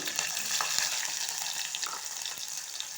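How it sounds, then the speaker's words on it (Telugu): Cumin, green chillies and onions sizzling in hot oil in a home kitchen pan, a continuous crackling fry with small pops and stirring scrapes, fairly quiet and close. "ఆయిల్ అయితే వేడెక్కింది జీలకర్ర అలాగే పచ్చిమిర్చి ఉల్లిగడ్డలు"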